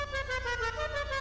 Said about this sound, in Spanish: Claxon en bucle.